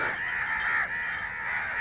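A crow caws in the open during a goshawk hunt, one drawn-out harsh call that dips briefly and then carries on over a quiet outdoor background with no talking.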